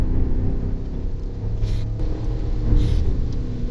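Deep exhaust burble from a Cadillac Escalade V being driven with paddle shifting: a steady low rumble that swells slightly toward the end, with no talk over it.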